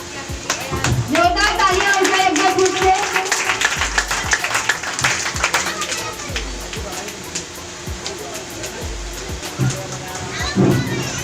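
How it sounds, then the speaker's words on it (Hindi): Loud, sustained applause from an audience at a Hindi-language stage event, with broadband clapping filling the clip; a voice seems to carry over it in places. "जोरदार तालियां हो जाए एक बार फिर से।"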